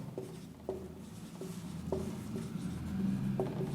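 Chalk or marker strokes on a classroom board as physics rules are written out, a series of short faint scratches and taps spaced about half a second apart, close and quiet.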